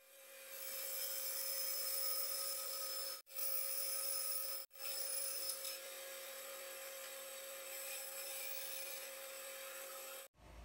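A wooden shelf piece is cut with a power tool, giving a steady, loud grinding saw drone that runs for several seconds, stops briefly twice, then continues until it cuts off near the end.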